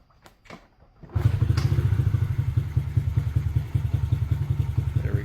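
A 2014 Honda CRF50 small dirt bike, fitted with a replacement carburetor, starts after a few light knocks and settles into a loud, close, steady putt-putt idle that keeps chugging evenly.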